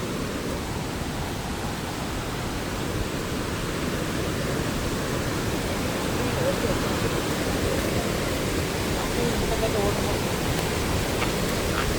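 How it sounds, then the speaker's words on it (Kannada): Water thunders down Dudhsagar waterfall in a continuous, dense roar that stays loud and steady throughout, with no clear voices standing out above it. "ಏನು ಸಖತ್ತಾಗಿ ಹರಿತಿದೆ ನೋಡಿ ನೀರು"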